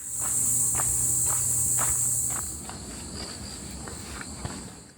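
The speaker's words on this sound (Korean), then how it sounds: "매미 소리가 날 때면 매미를 찾고 싶어 나무를 쳐다보는데" Cicadas buzz in the trees along a forest trail, a loud steady high drone that fills the air, with the soft crunch of footsteps walking on the path underneath.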